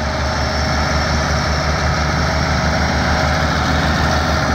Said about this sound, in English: This is our only tractor with a loader.